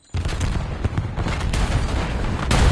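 A grenade detonates during a competitive shooter game tournament match: a loud, dense blast with gunfire-like crackle that holds steady and swells again at the end.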